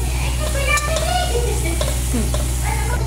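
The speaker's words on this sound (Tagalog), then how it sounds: "Sibuyas, ahos, luya, ibutang sa init nga mantika. Ihalo." Onion, garlic and ginger fry in hot oil with a loud, continuous sizzle, while a spoon stirs and occasionally scrapes the pan, close up.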